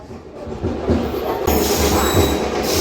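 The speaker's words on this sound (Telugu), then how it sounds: "ఇనాగ్రల్ స్పెషల్ ఇదిగోండి, కొక్రాజర్ చర్లపల్లి అమృత్ భారత్ ఎక్స్ప్రెస్ కొత్త ట్రైను" Amrit Bharat Express running Kokrajhar to Cherlapally, hauled by two WAP-5 electric locomotives at Bhimavaram Town railway station, rumbling past nearby with a steady roar and wheel noise that grows louder midway.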